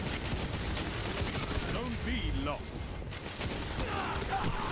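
Dire Promise hand cannon in Destiny 2 player-versus-player combat fires a series of quick, sharp shots within a busy stretch of gunfire, mixed under someone talking.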